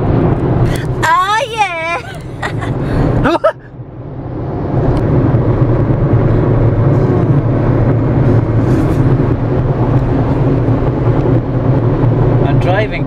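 A car drives along the road, a steady loud engine and road rumble from inside the cabin following a brief burst of vocal sounds at the start.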